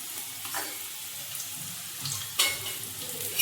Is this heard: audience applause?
no